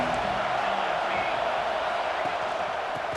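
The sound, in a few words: football stadium crowd cheering, Ohio vs Ohio State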